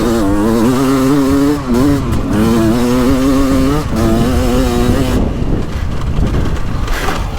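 A 2023 Beta 300 Race Edition two-stroke dirt bike ridden on a woods loop, its engine loud and close with a steady revving drone that dips and rises as the rider shifts and accelerates, easing off near the end.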